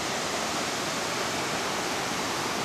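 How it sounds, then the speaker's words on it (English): Waterfall at Muriwai on New Zealand's North Island, a steady broadband roar of falling water that holds constant and fairly near throughout, with no voices. "First of many, many waterfalls that we should be seeing here in New Zealand."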